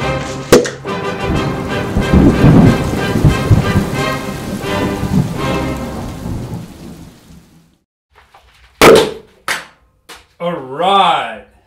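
Yoghurt explodes in a heated container with a loud rumbling, hissing burst that fills the first seven seconds before fading, followed by a few sharp cracks and brief exclamations.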